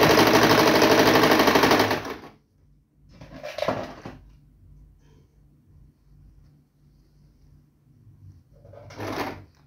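A sewing machine stitches interfacing onto bag straps, a loud close rapid whirr for two seconds, then quiet with two short bursts of stitching later on.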